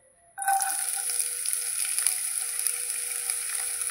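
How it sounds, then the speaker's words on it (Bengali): Onion hitting hot mustard oil and frying, a sudden loud sizzle that starts abruptly and holds as a steady, bright crackle with no talking. "পেঁয়াজটা ভেজে নিচ্ছি একটু"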